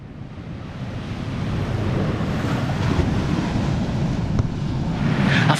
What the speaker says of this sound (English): I found a nice quiet sheltered spot down here right on the beach